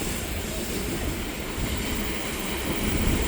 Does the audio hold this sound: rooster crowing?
no